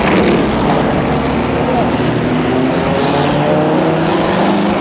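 Vintage race cars, including 1960s Porsches, a small British MG and a 1950 Mercedes, roar past on a race track, a loud, dense engine drone with overlapping passes and rising and falling revs.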